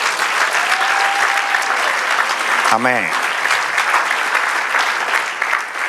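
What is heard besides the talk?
applause in church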